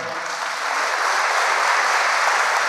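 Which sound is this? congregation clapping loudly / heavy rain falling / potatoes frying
congregation clapping loudly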